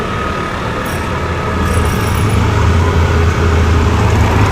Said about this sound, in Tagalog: Talagang malakas ang biyahe ng mga jeep ngayon.